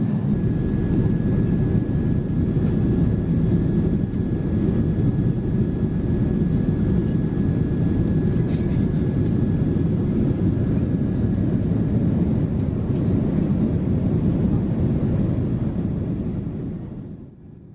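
Steady, loud low roar of cabin noise inside a Virgin Atlantic Boeing 787-9 cruising at altitude in economy, an unbroken broadband rumble with a faint high tone, continuous throughout before fading at the end.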